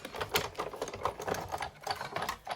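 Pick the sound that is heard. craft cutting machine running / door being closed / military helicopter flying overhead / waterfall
craft cutting machine running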